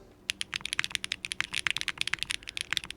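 Rapid, crisp clacking keystrokes on a Machina Cloudnine 2 mechanical keyboard with Keygeek Explosions switches, PEI plate, GMK Expo keycaps, 70A tadpoles, and a brass bottom and amber top. The typing is close and steady, with no voices.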